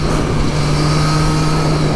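A 2023 Triumph Street Triple 765 RS motorcycle engine under open throttle, a loud steady roar with wind rush, held for two seconds.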